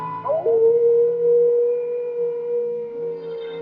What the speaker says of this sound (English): an eerie howl